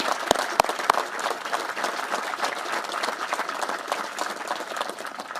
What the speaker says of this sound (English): let's give all these troopers a round of applause here